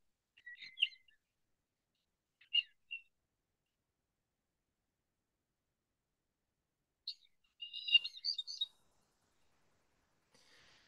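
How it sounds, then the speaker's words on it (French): A Eurasian blackbird sings a few faint, distant song phrases of chirps and whistles, separated by long silent gaps. "en haut, c'est le merle, par exemple"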